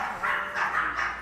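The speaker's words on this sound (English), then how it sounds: "So many dogs." Several dogs bark and whimper in a busy, fairly close burst of yips and whines, with excited reactions around them.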